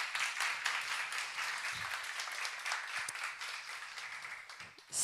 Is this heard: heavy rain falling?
no